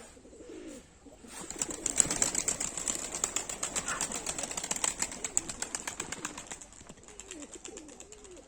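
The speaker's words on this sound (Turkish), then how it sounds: "Evet kuşlarımız da burada." Pigeons flap their wings in a long burst of rapid, close fluttering, with soft cooing before and after.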